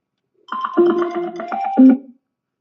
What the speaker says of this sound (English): I'm going to call the iPhone using my landline.